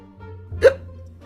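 A single short hiccup pops out sharply in the middle of a quiet moment, a quick voiced catch that stands alone and close.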